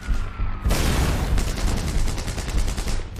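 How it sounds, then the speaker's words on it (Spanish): Gunfire in a WWII battle reenactment erupts in a dense volley, loud close shots followed by a rapid machine-gun-like rattle that continues with no voices. "A pesar de los intensos disparos que ya han acabado con la vida de algunos de sus hombres, Clark sale de la trinchera"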